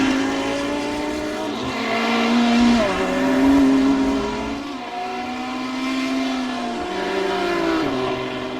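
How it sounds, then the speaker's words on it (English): GT3 race cars, a BMW chasing a Ferrari at Imola, roar past with steady high-revving engine notes that rise and drop through gear changes, loud and continuous throughout. "And there is, and it is James Neve with the Fina BMW. Chasing Adam Fox's Ferrari"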